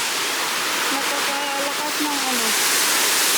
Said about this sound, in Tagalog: napakalakas ng current ng water.